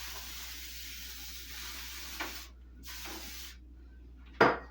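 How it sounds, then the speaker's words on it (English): Cooking spray hisses onto a baking pan in a home kitchen, a faint sustained aerosol spray in a couple of bursts separated by silence, ending with a brief clatter. "I'm going to spray my one pan because I am going to bake one of these"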